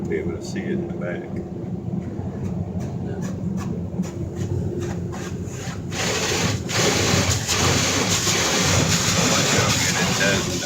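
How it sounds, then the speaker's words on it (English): Brushes of a Ryko SoftGloss XS 2 car wash at an Exxon gas station scrub a car, a continuous rumbling, swishing wash noise with periodic slaps, growing louder midway, while people talk. "And watch the brushes in the back"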